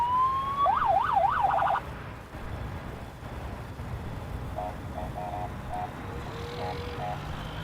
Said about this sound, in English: they did put on their little squeaker siren as well, but yeah, we got the fire rescues.